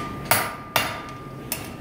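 A hammer forges a rail spike into an axe, striking three sharp, close metallic blows at uneven intervals, each ringing briefly before fading, with no voices.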